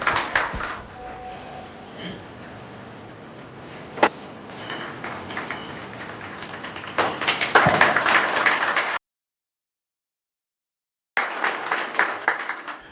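Scattered, moderate applause from an audience at a contract-signing ceremony, building in intensity toward the middle, then breaking off into silence before resuming briefly.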